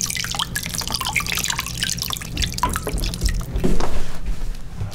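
Water from a tap splashes and drips continuously over miniature figures being rinsed, a close, busy patter that swells louder near the end.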